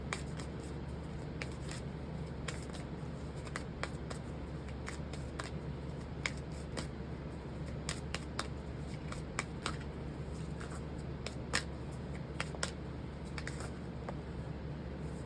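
Moonology oracle card deck being shuffled by hand, a steady soft papery riffle with scattered sharp card snaps over faint low background hum, no talking.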